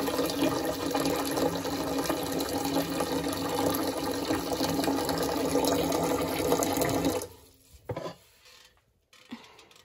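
Filtered water pours steadily into a container in a home kitchen, a loud, continuous rushing stream for about seven seconds that then stops abruptly, leaving a few faint splashes and clatters.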